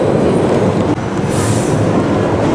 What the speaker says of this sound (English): a 3-lift old school mine train roller coaster